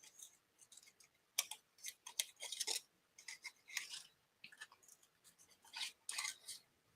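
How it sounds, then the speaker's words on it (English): Scissors fussy-cutting around a small paper cut-out from a large index card, with a series of soft, close snipping and crisp paper-slicing strokes in irregular clusters in a quiet room. "We'll fussy cut around that."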